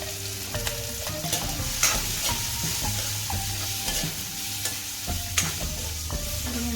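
Turmeric and coriander powder frying in a pan for an Assamese bitter gourd dish, stirred with repeated scraping strokes over a steady close sizzle, with no one talking.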